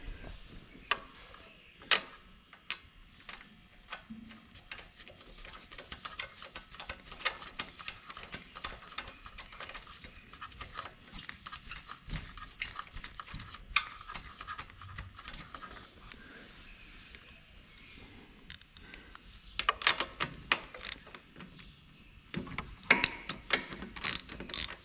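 A new spark plug is threaded in and snugged on a zero-turn mower with a hand ratchet, giving quiet bursts of clicking pawl ticks and scattered metallic taps, close and faint, with no talking.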